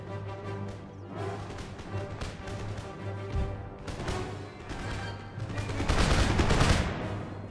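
Musket volleys in the video game Empire Total War, rolling crackles of massed gunfire swelling and fading, densest and loudest toward the end over a low battle hum.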